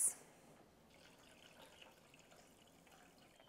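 Sugar water is poured into a vessel while making water kefir, a faint, soft liquid trickle with a brief splash at the start, quiet and with no talking.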